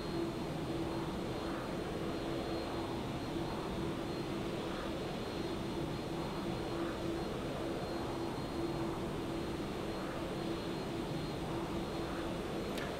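A Qantas 747 in a flight simulator game drones with a steady, even jet engine rumble and a faint constant tonal whine, unbroken and with no talking.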